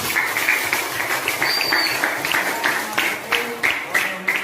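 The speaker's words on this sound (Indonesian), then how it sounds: "Berikan aplaus untuk kita semuanya" A school class applauding together, a steady patter of many hands clapping at close to moderate distance, with voices mixed in under the clapping.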